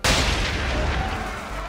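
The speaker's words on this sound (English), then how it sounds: "Bring her round broadside, and when all guns are on target, call fire" Ship cannons firing a broadside in the Assassin's Creed 3 video game: a sudden loud, booming blast that rolls on with a dense rumbling tail.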